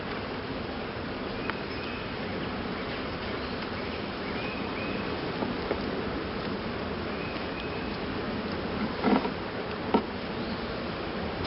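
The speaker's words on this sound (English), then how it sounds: "I've got bees on all frames" A soft, continuous buzzing of many honeybees in an open hive, steady and low, with a few brief louder passes close by.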